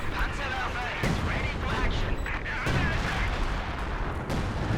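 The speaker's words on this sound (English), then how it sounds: "Deep Priest barrage" Artillery barrage from a Priest self-propelled gun in Company of Heroes 2, heard as a dense, sustained rumble of explosions and gunfire with sharp bursts near one and two and a half seconds, loud and continuous.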